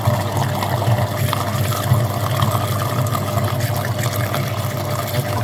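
Water rushing steadily through the heater radiator of an Opel Omega B during a flush, a continuous close gurgling stream with no clear breaks.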